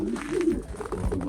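Pigeons cooing softly and repeatedly nearby in an aviary during breeding season, low throaty coos overlapping one another with no talk.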